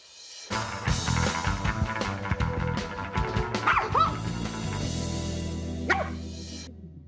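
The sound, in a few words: dog barking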